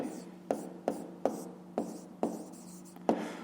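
Pen strokes of handwriting during a fifth-grade maths lesson: a series of six or seven sharp scratchy taps and short rubs spaced about half a second apart, close and fairly quiet over a steady low hum.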